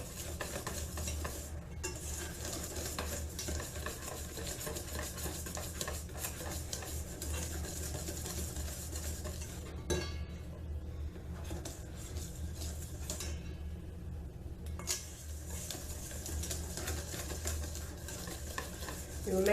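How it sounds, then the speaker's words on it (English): A spoon stirs lemon cake batter in a bowl for a crockpot cake, making a continuous soft scraping and swishing with a few light clinks. It sits at a fairly low level, with no talking. "So you want to get this good and stirred."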